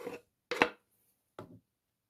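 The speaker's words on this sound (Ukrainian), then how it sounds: "Наша яєчня вже охолола, ми можемо нарізати також і її." Three separate chops of a knife through cooled fried egg on a board for a salad, crisp and close with short silences between strokes, no voices.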